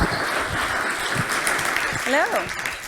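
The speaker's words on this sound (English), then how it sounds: "please, a big round of applause for Anouk" Audience applause welcoming a speaker onto the stage for a fireside chat on culture transformation at Uber, a steady broadband wash of clapping throughout with a brief whoop or cheer near the end.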